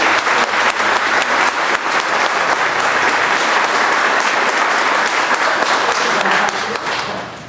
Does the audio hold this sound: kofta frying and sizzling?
no